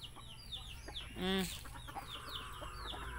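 Chickens, including a small Bisaya breeder hen, cluck around a feeding spot with one loud squawk near the middle, amid outdoor bird chatter and soft background talk.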